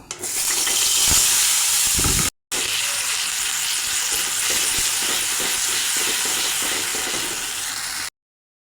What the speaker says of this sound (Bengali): আর একটু তেল দিয়ে দেব। বেটে রাখা মশলাগুলো দিয়ে দেব।